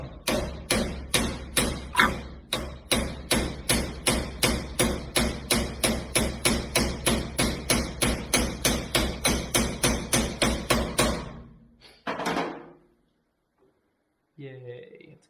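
Steady, rapid hammer blows on metal, dozens of evenly spaced loud strikes for about eleven seconds, then a brief scrape and a faint clunk, while working on an International gasser hot rod.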